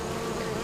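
A dense, steady drone of many honey bees buzzing together up close in a hive, continuous and even throughout.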